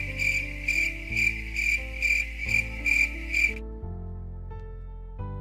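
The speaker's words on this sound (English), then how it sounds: "Crickets." Crickets chirp steadily in rapid pulsing bursts, fairly loud and close, with a low continuous tone underneath; the chirping stops partway through.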